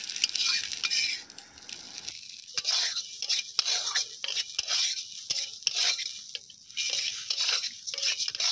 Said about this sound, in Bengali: তার আগে ডিমটা ভেজে নিচ্ছে।